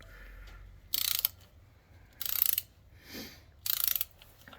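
A ratchet loosening the clutch cover bolts on a 1986 Yamaha Radian YX600 motorcycle, giving three short bursts of rapid clicking with pauses between, close and fairly quiet, with no talk.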